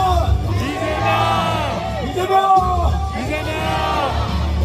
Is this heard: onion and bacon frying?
no